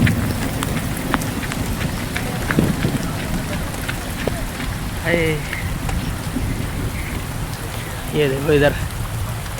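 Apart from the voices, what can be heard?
heavy rain in jungle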